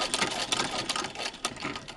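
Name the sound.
Singer 15-88 vintage sewing machine stitching fabric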